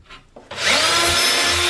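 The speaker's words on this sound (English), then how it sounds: "I like to drill from the inside out" Power drill boring screw holes into a wood branch for installation, a brief tap and then a loud, steady whirring bite into the wood lasting over a second, close up.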